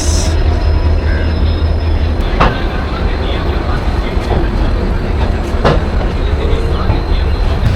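Jan Shatabdi Express 12021 pulling out of Howrah station, a steady loud rumble of rolling wagons with a couple of sharp clanks from the wheels over rail joints, heard up close from aboard amid station hubbub.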